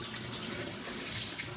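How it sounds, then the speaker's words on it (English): Hot water gushes steadily from a tap over a metal cake scraper, a continuous close hiss of running water with no pauses. "I'm going to put this under hot water"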